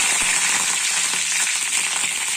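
Curry leaves hit hot oil already popping with mustard seeds for a coconut chutney tempering, giving a bright, steady sizzle with small crackles close up and no talk.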